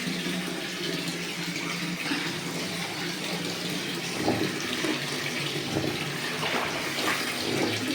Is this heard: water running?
yes